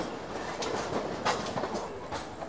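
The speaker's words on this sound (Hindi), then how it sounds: "ये इंडियन ट्रेन है" An Indian passenger train, the Chennai Express, runs along the rails into Chennai with a steady, loud broadband rumble and faint rhythmic wheel clatter, with no voices.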